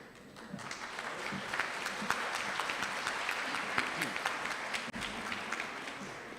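Warm audience applause fills a family-law conference session, a dense, steady crackle of many hands clapping that holds at an even level throughout, with no speech over it.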